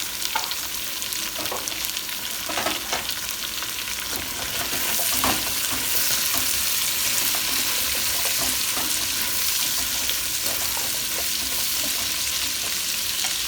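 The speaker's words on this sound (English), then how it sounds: "We sweat our carrots for a moment. Now we're gonna add our celery" Carrots and celery sweat in a stew pot for German Eintopf, a steady broadband sizzle with intermittent stirring clicks and scrapes, growing slightly louder midway and continuing evenly throughout with no talking.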